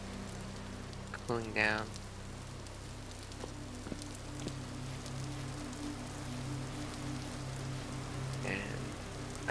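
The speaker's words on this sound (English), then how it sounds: "It is like midday, but it is still raining." Steady soft rain patters continuously in the Vintage Story video game world, a faint even hiss with a brief quiet voice and a couple of short in-game tones partway through.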